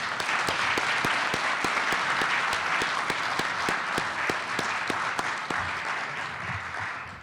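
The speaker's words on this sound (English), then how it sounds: "maybe we can give one more round of applause to all the students" An audience at a panel discussion claps steadily for students, a dense sustained round of applause that fades slightly toward the end.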